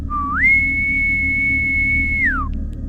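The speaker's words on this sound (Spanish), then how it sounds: "De pronto se levantó y lanzó un largo silbido." A single long whistle held at one steady pitch for about two seconds, rising in at the start and gliding down at the end, clear and close over a low background hum.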